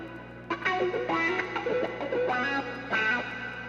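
A chopped guitar loop with a distorted, effected tone, short phrases stopping and restarting in bursts, washed in reverb tails, no voices.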